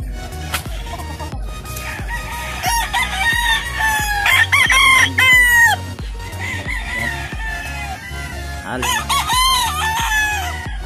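Backyard-farm gamefowl roosters of the galmuhat bloodline crow loudly and repeatedly, with several birds calling over one another amid clucking.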